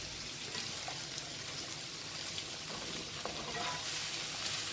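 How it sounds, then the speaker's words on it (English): Vegetables with ackee are stirred in a greasy pot, giving a soft continuous frying sizzle with faint scraping and light ticks, quiet and close. "and then you're gonna stir it."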